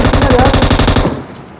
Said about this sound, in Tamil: சுடு பள்ளத்துல இருந்து அடிக்கிறான்.